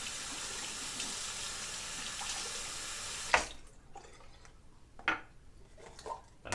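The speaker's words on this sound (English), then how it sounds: "I'm just gonna wet it again just to get a little more moisture out of it." Tap water runs steadily for a few seconds while a shaving brush is wetted, then cuts off, leaving scattered close drips and splashes in a sink, with no talking.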